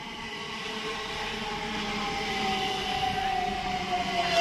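A Great Western Railway Class 387 Electrostar electric train pulls into Ealing Broadway station on the Great Western Main Line. Its rumble and whine grow steadily louder as it nears, with a high tone rising toward the end.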